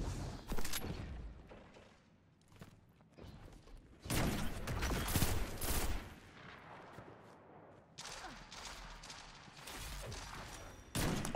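Gunfire in a Destiny Trials match, bursts of loud shots and heavy blasts in separate clusters with quiet gaps between them.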